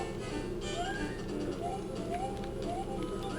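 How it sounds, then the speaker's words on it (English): A cat meows for attention in short, rising calls repeated every second or so, fairly faint and distant beneath a constant hiss of room or stream background noise. "Apparently this cat demands attention."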